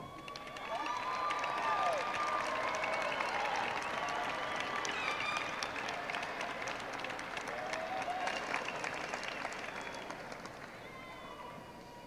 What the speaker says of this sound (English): Let us salute them with our applause.